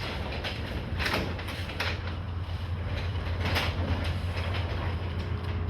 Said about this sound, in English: here's my door going up.